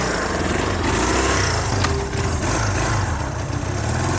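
A 46-year-old Honda motorcycle engine with an exhaust leak runs steadily up close, a loud continuous rumble that stays even throughout with no talk over it.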